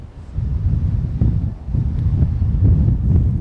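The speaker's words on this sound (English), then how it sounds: "Man, it is fully windy." Strong wind of 15 to 20 knots buffets the microphone in loud, continuous rumbling gusts, swelling and dipping slightly but never letting up.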